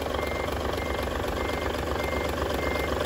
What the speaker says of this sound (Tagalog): Ayan po yung andar ng makina natin.